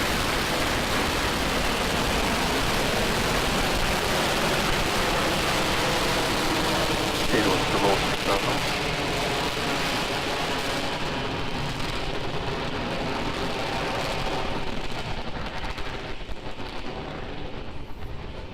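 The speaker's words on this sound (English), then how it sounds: "Falcon 9 with the Crew Dragon capsule is heading east from pad 39A." A SpaceX Falcon 9 carrying a Crew Dragon capsule roars steadily after liftoff from pad 39A, a dense, continuous rumble that holds loud throughout and fades slightly near the end, with commentary talking over it.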